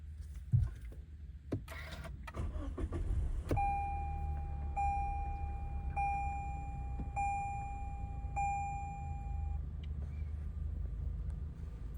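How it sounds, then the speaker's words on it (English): A car is switched on: a few clicks and a short cranking burst, then a low steady engine hum settles in under a series of repeated high dashboard warning chimes. "I'll let you hear really quickly what my car sounds like when I turn it on."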